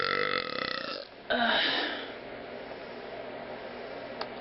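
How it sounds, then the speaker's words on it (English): Two long, loud, resonant burps close to the microphone, the first drawn out for about a second and the second following after a short break, then a quiet tail. "I wish that this camera could capture the base of my burps"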